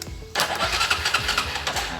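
A jumpered Honda Mega Pro starter motor cranks again straight off the battery. It starts abruptly and gives a close, rapid, grinding churn that pulses steadily for under two seconds.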